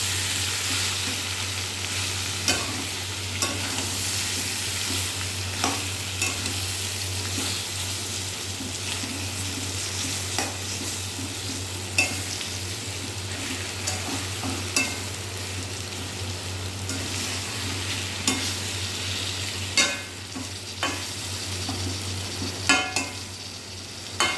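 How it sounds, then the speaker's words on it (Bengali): Food fries loudly in a pan with a constant hiss and sizzle, broken by frequent sharp scrapes and knocks of a stirring utensil over about twenty-four seconds. Nobody talks. "এটা একটু ঘন ঘনই নাড়তে হবে।"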